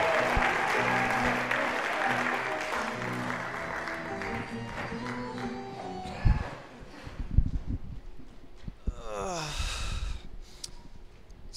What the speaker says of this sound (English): Big round of applause for Alex Avery